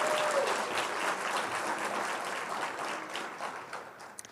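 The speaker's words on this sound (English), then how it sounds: "Please give a round of applause for our dynamic student speakers." Warm, steady applause from a crowd at a Kente donning ceremony for student speakers, continuous and fairly close, tapering slightly toward the end.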